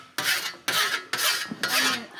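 A Husky file rasps across a rusty scythe blade in four steady, close strokes, each a bright, gritty scrape with a brief pause between them.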